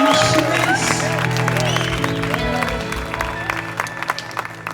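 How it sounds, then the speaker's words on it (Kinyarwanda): Applause from an audience at a gathering, with clapping and cheering that start loud and fade out over the clip, under a sustained musical drone and talk. "Reka dukomere Imana amashyi menshi."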